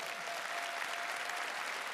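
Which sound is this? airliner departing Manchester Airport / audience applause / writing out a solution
audience applause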